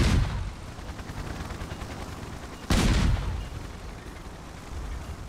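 Airship guns fire in the online game Guns of Icarus Online: a loud burst opens the stretch and a second heavy blast lands near the middle, with a dense rumbling battle din between them and no talk.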